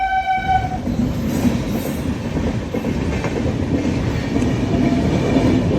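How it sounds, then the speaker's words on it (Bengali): A train rumbles past at close range with a steady, loud clatter of wheels on rails, opening with a brief horn blast that fades after the first second, near a village on the way to Sapatgram in Bangladesh/India region. "এই যে দেখতে পাচ্ছ ট্রেন যাচ্ছে"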